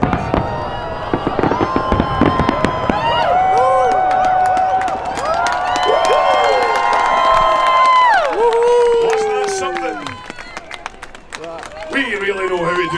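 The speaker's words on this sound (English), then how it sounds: "Fireworks here in Edinburgh, don't we?" Fireworks burst and crackle over Edinburgh at a Hogmanay New Year party, with rapid bangs, whistling rockets and sizzling trails layered densely, while a crowd talks nearby.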